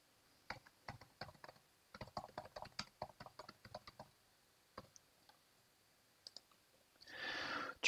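Keys on a computer keyboard being typed to enter a folder name, a run of quick, light clicks in bursts with short pauses, close and alone, ending in a brief rustling hiss.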